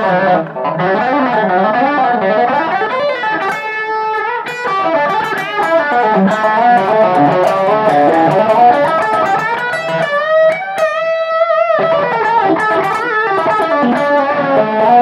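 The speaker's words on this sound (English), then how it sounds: "So here is the back pickup," Gordon Smith Classic S electric guitar played on the back pickup with full distortion at full volume, a continuous run of driven riffs and sustained notes with a brief pause near the middle, no talking.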